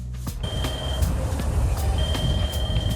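A train rolls past the seaside in Busan, a loud steady rumble of wheels on track with faint metallic squeals and high ringing tones layered over it.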